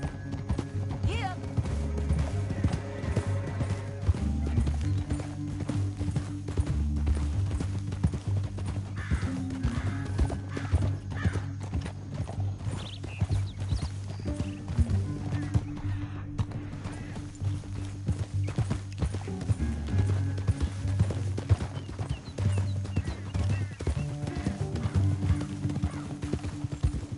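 Horse hooves clip-clop steadily in the Western video game Red Dead Redemption, a continuous rhythmic gait under background music and game sounds, with occasional whinnies and voices.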